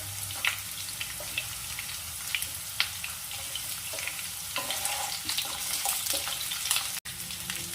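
Drumstick vegetable (moringa pods) stir-fried in oil in a pan for a Bengali shukto, giving a steady soft sizzle with faint clinks and scrapes of stirring throughout, no voices.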